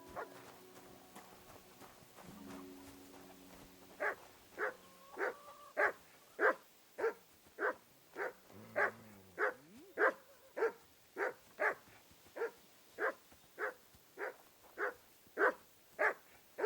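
A dog in the video game Kingdom Come Deliverance 2 barks in a steady repeating run of about twenty sharp barks, close and clear, after a brief stretch of quieter game sound.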